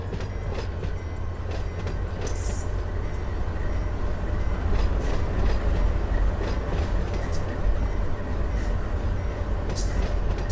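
A BNSF freight train rolling through the Run 8 simulator, with a steady low rumble and rail clatter, faint periodic clicks over a continuous wash of wheel and engine noise, alone and moderately loud.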